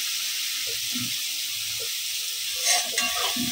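Spice paste (masala) frying in oil for a katla fish curry with potato and cauliflower, a steady close sizzle with a few soft spoon stirs and scrapes near the end.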